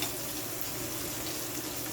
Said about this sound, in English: And this is frying up nicely.